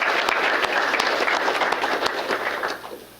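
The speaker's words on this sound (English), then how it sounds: "Let's give him a round of applause." An audience at a city employee recognition awards ceremony claps in a full, even round that holds steady and begins to taper off near the end.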